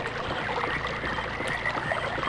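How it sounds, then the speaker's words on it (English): In the Myst video game, a bridge rises out of the water with a continuous churning, rushing mechanical wash that stays even and moderately loud throughout. "It raises the bridge out of the water"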